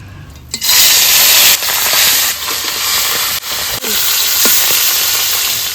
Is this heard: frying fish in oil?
yes